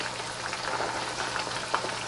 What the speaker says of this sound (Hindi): इसकी साइड चेंज करके इसको अच्छे से फ्राई कर लें।